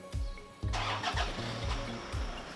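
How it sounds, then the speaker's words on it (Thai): A 2012 Toyota Fortuner 3.0V 2WD engine cranks briefly, catches and fires up with the air conditioning off, then settles into a steady running rumble, close and fairly loud. "อ่าต่อไปเดี๋ยวผมจะสตาร์ทเครื่องให้ฟังนะสตาร์ทแบบไม่เปิดแอร์ก่อนนะ"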